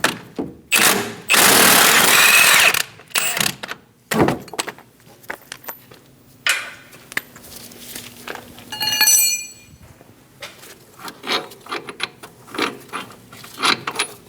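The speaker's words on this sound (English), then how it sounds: "we're going to hold the head of the bolt while we remove the nut" A socket and 22mm wrench work loose the strut mount nut on a 2008-2015 Scion xB, giving metallic clinks, ratcheting clicks and tool knocks in irregular bursts, close by with no talk.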